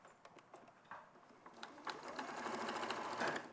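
A sewing machine stitches fabric in a studio setting, starting with hesitant bursts and then running into a steady, close whirring hum that builds slightly toward the end.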